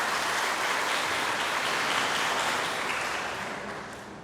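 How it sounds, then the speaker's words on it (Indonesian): Church congregation applauding the choir after a Mass in Indonesia, a steady dense patter of many hands clapping at moderate distance for several seconds, fading slightly at the end, with no talking. "Kita beri aplaus untuk kurnya."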